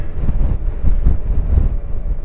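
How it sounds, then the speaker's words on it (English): Cold wind buffets the microphone on a motorcycle ride to Bauline, a steady low roar with gusty surges throughout. "It's windy and it's cold."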